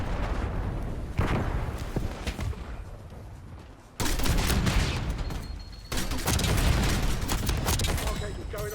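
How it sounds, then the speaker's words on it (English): Repeated bomb blasts and artillery-like booms pile up in a Black Ops 6 match, loud dense barrages with sudden surges at a few points and a brief quieter dip between them. "Too many bombs going off."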